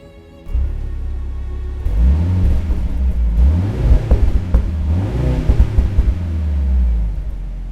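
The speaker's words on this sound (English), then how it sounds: "The V8 is gone and it's been replaced with a 4-cylinder hybrid setup," New Mercedes-AMG C63 with a four-cylinder hybrid engine revs hard several times, its low rumbling note rising and falling in repeated surges after a quiet start, loud and close with no talk.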